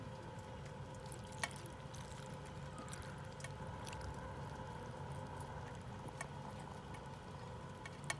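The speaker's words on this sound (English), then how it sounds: "we'll start pouring." Alcohol poured steadily into a glass jar over dandelions for a tincture, a soft continuous trickling stream with occasional faint drips, quiet and close, no talking.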